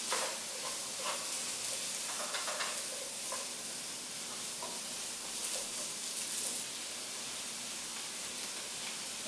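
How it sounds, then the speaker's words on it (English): Asparagus cooks in a hot pan with a soft, even sizzle and faint crackles running steadily throughout, close by, with occasional light stirring scrapes and no speech. "Get your asparagus cooking."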